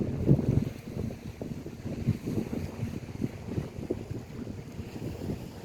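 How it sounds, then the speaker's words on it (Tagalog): Gusty morning wind on Naxos island, Greece, buffets the microphone with a rough, low rumble that swells and dips throughout, loud and close, with no voices. "Ayan, mahangin ng umagang ito."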